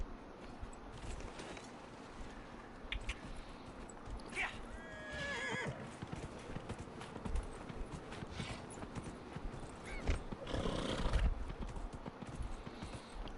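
In Dragon Age Inquisition, a summoned horse gives a clear whinny near the middle and clopping hooves through the rest of the stretch, fairly quiet, amid game ambience.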